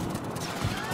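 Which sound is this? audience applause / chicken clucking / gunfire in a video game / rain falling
gunfire in a video game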